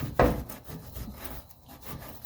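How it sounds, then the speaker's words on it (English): Sandpaper of 100 grit rubs in short back-and-forth strokes over a primed metal battery tray from a 1985 Mercedes 300D, a steady close scratchy rasp with no talking. "to sand it smooth, and then we'll prime it and paint it"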